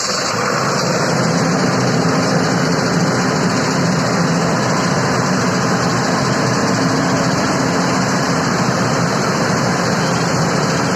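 A 125 kVA, 160 horsepower diesel generator set running under full load gives a loud, steady, continuous roar with a low engine drone and broad mechanical hiss that stays constant throughout, with no voices.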